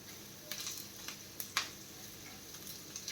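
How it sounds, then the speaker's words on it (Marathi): Onion roasting on a hot cast-iron tawa with oil, a soft steady sizzle with a few faint crackles and ticks, close and quiet with no voices. "बघा आता आपला कांदा पूर्ण भाजत आलेला आहे"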